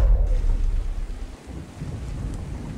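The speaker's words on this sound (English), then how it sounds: "Alright, it's raining." Rain and thunder fill a skateboarding video game scene: a heavy low rumble of thunder rolls beneath a steady, dense downpour, loud and close, with no voices.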